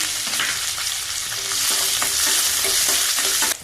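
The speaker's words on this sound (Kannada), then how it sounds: "ಒಂದು ದಪ್ಪ ಈರುಳ್ಳಿನ ಈ ತರ ದಪ್ಪ ಕಟ್ ಮಾಡಿ ಹಾಕ್ತಾ ಇದ್ದೀನಿ" Thick-cut onion, green chilli and curry leaves sizzle loudly in hot oil, a steady close crackle with occasional stirring scrapes and no voices.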